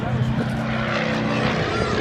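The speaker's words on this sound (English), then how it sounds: "And this is a very unusual airplane as he rolls it there." A two-place aerobatic propeller airplane rolls in flight, its engine and propeller giving a steady, loud, unbroken drone throughout.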